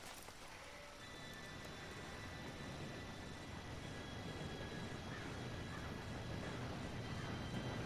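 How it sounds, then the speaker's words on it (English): A train in Red Dead Redemption approaches as a low, steadily swelling rumble with a faint high squeal of wheels, growing gradually louder over several seconds, with no talk. "Train should be here any minute now."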